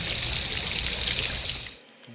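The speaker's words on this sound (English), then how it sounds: "water ambience." Water ambience sound effect, a continuous bright trickling, burbling stream that cuts off abruptly near the end, with no voices.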